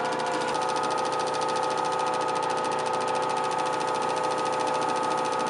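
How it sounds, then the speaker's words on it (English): A wood lathe spins steadily while gel stain is wiped onto a turned duck call, giving a continuous even motor whir with a constant hum and no pauses. "Take just a little bit, turn your lathe on, and do it like you would."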